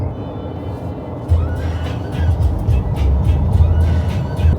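Small one-litre car engine while driving, a steady low rumble with road and wind noise that rises slightly as the car accelerates.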